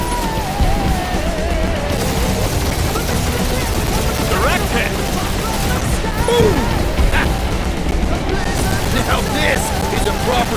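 Gunfire and impacts from the Marvel's Guardians of the Galaxy video game, repeated shots and crashes layered under a busy, loud mix of music and in-game voices that keeps going throughout.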